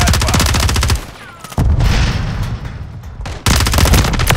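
Rapid automatic gunfire from Call of Duty Modern Warfare 3 multiplayer, loud and close, in two dense bursts separated by a brief lull filled with softer distant shots and explosions.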